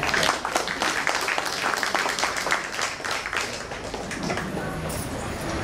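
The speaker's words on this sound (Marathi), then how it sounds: "तुमच्या टाळ्यांचा गजर म्हणजे त्यांचे यश." A crowd, largely women, applauds the performers at a Mangalagaur traditional games event: dense, steady clapping fills the whole stretch at an even level, with a few voices mixed in.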